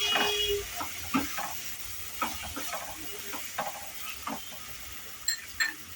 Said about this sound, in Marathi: मसाला छान शिजलाय, तेल सोडलंय मसाला